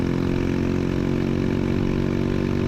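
A racing kart engine drones steadily at mid pitch on a wet track during a VIKA karting race at VIMC, with no letup and no voices.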